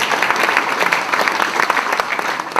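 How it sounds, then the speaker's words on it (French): Audience applause at a local New Year's greetings ceremony honouring home care aides, dense steady clapping from a sizeable crowd throughout, close and loud with no talk over it. "qui méritent une salle d'applaudissements"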